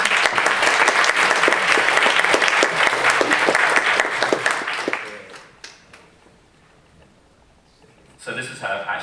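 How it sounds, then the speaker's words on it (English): Audience applause at a GNOME GUADEC 2015 conference talk: a dense burst of clapping for about five seconds that fades into quiet, then a brief rise of clapping or murmur near the end. "So I think they deserve a round of applause."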